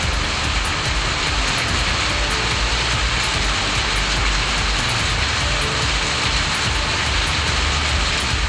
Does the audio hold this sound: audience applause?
no